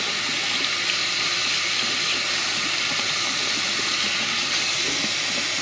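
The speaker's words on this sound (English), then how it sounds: "Pretty much rinse it all out." Tap water running steadily over a Hawaiian black crab being rinsed clean, a loud continuous splashing hiss close to the sink with no pauses and no talking.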